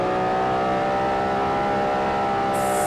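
A DeLorean in a realistic racing simulator game, a broken-down car tuned to 5000 horsepower, accelerates with a steady, loud engine drone that holds throughout, and a high hiss comes in at the end.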